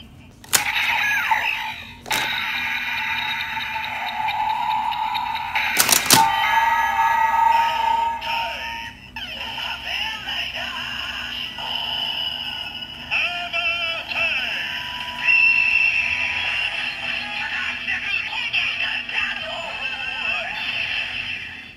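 A DX Tajador Combo Ridewatch, a Kamen Rider OOO toy, plays loud electronic sound effects that include a bird cry. Bright tones and sharp clicks run steadily for about twenty seconds without any voice.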